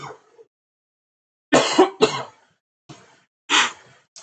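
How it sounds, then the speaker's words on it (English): A person coughs several times in short bursts, loud and close, with brief silences between the coughs. "I got a cough."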